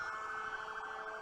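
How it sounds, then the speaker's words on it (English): Sirens from about two dozen police cars heading to Capitol Hill in Washington, D.C., during pro-Trump protests, a sustained wailing tone, faint and distant. "That's the sound of about 24 police cars that are trying to make their way to"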